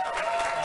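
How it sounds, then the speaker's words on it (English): A studio audience applauding on a television talk show, a steady dense wash of clapping through the whole brief moment. "They're applauding Other Rob."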